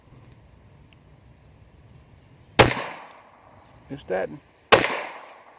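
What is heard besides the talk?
FN Browning 1910/23 pistol firing .32 ACP rounds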